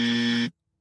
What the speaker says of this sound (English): Do you have the right buzzer or the wrong buzzer?